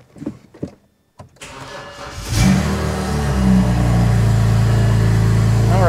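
A BMW N54 engine in a car, on its first start after a coolant bleed, gives a few clicks, then cranks and catches. It settles into a loud, steady idle that runs to the end.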